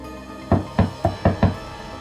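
Five firm knocks land on a door in quick, slightly uneven succession, loud and close, each a solid thud with no voices.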